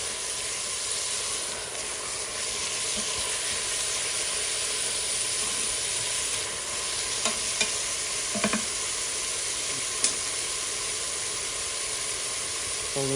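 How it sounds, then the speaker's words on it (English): Ground beef is broken up and browned in a single pot for hamburger macaroni, giving a steady loud sizzle with intermittent scraping and stirring clicks from a utensil, and no talking. "I am continuing to break down the meat to go ahead and brown it"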